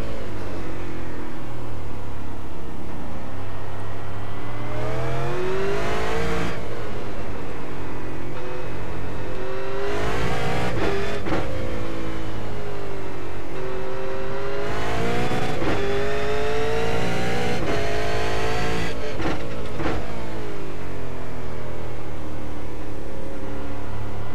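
A V8 race car engine at Okayama in iRacing revs hard and loud, pitch climbing through gears with repeated upshift drops and lifts into corners, close and continuous without talk.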